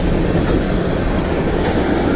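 A train rolling over track laid on chunky, angular rock ballast, giving a steady loud rumble and roar throughout with no distinct clicks or pauses.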